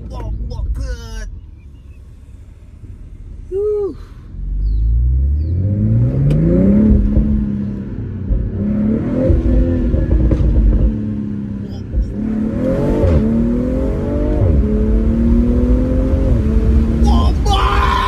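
A BMW M340i revs up hard on a street, the engine note climbing through rising pulls with a gear change, loud and close, while people shout excitedly over it.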